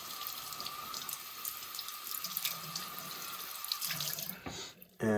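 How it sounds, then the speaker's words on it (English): Hot water runs steadily from a tap into a sink, a continuous close hiss and splash throughout, broken by a brief dip and sharp change near the end. "So let's get some hot water on here now."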